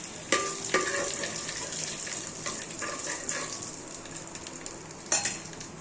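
Cinnamon, cloves and cardamom frying in hot oil for chicken biryani, a steady close sizzle with a few sharper crackles and pops breaking through, no talking.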